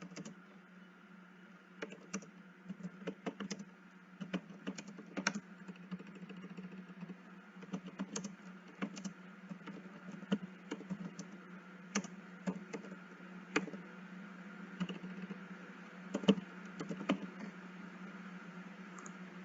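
A comment being typed on a computer keyboard, a steady stream of light key clicks with occasional louder taps, over a low constant background hum, no talk.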